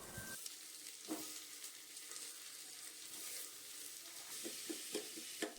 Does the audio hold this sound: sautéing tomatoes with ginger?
yes